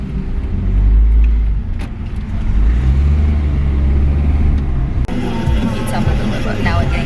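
Steady low engine and road rumble from a car driving along a road in St. Ann, continuous and fairly loud, with a voice talking now and then over the drone.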